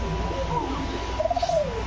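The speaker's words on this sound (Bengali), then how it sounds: "ককাগুলো ডাকাডাকি করতেছে" Cocka pigeons give a couple of soft, drawn-out cooing calls close by over a low steady background hum.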